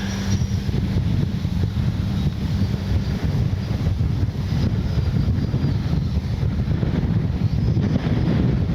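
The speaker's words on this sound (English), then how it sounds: "Oh man, this wind." Strong gusting wind buffets the microphone at an RC jet flying field, a loud continuous low roar and rumble with no break and no speech.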